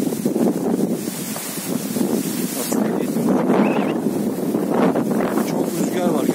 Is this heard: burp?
no